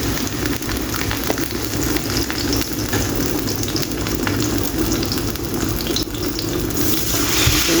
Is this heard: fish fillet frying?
yes